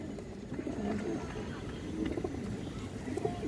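A full tota pigeon coos softly in low, rounded bursts amid faint background noise, while someone talks over it.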